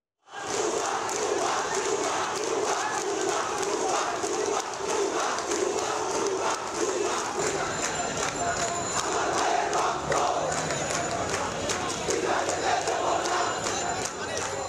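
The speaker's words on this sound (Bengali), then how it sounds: "9 দফা দাবিতে স্লোগান দেন তারা।" Protesting students on a Dhaka street march chant slogans in a dense, loud crowd roar. The rhythmic shouting stays steady and continuous throughout.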